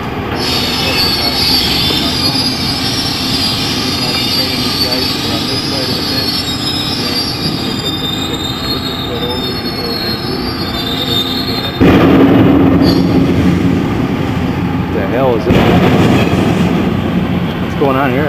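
Train rolling past with loud, sustained wheel squeal and rail noise, growing louder and harsher near the end, with faint voices in the background during the collapse of the Big Blue crane in Milwaukee.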